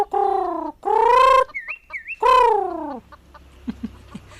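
Chickens in a farmyard give a few loud, close clucking calls in short bursts, with brief squeaky notes in between and a couple of faint knocks at the end.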